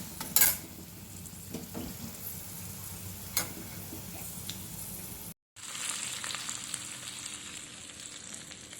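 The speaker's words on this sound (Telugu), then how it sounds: "పోపు రెడీ అయిపోయింది. మనం తాలింపు చేసుకుందాం." Tempering of garlic, dried chillies, mustard, cumin and curry leaves sizzles in a pan for gongura dal, a quiet steady hiss with a few clinks, briefly cutting out before a brighter sizzle resumes.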